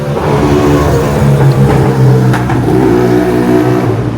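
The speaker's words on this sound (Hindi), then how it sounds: "ये कुछ कुछ होते हैं ऐसे बंदे जो कि अपना साइलेंसर फाड़ देते हैं और ऐसे रात में गाड़ी भगाते हैं" A loud two-wheeler with a modified, torn-open silencer speeds past at night on a road in Japan, giving a continuous harsh, revving engine roar that stays close and loud throughout.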